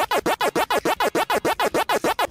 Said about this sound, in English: That's someone doing this on a record.